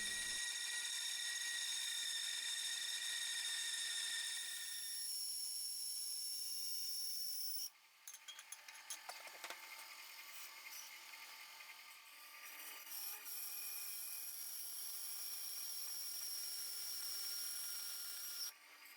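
Bandsaw cutting aluminium with its blade lubricated with bath soap: a high whining hum runs alone at first, then gives way to harsh, uneven rasping and scraping as the blade bites, close and sustained without speech.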